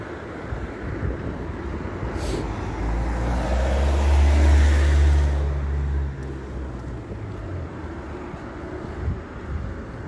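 Cars pass along a national road through a town, one vehicle swelling up loud and close before fading, with steady traffic rumble and wind noise on the microphone throughout.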